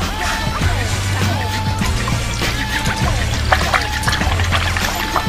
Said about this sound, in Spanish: vamos entonces a llenar uniformemente con agua helada